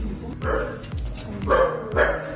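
A dog gives several loud, sharp barks in quick succession nearby, indoors, with brief gaps between them and a voice faintly audible in between.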